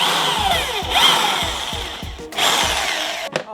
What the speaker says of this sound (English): I might just need a different drill bit.